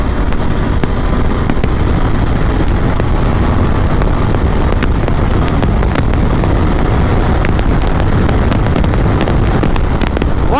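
A Royal Enfield Interceptor 650 BS6 motorcycle ridden in third gear after a clutch plate repair, heard as a constant loud roar buffeted by heavy wind with no pauses and no speech.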